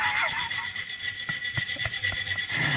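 A wire brush scrubs a bolt from the footpeg mounts of a DR200 motorcycle in rapid, rhythmic back-and-forth rasping strokes, close and steady.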